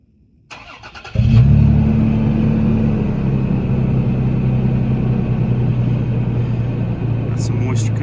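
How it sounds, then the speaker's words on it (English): A 2021 Toyota 4Runner TRD Pro with its 4-liter engine cold-starts on a chilly day: a short crank, then the exhaust catches and settles into a loud, steady low rumble close by, with a faint high chirp near the end. "let you hear what the exhaust sounds like at the same time"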